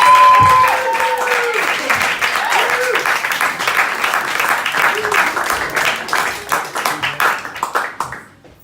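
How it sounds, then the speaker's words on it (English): Audience applause at the end of a comedy set: loud, dense clapping begins at full strength, holds steady, then thins into scattered claps before stopping. "Another round of applause just make me feel better."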